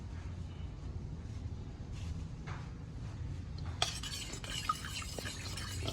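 A spoon stirs kimchi paste made with chili powder in a bowl, giving a steady, soft scraping and swishing throughout, with a few sharper clinks and a brighter rattle near the end.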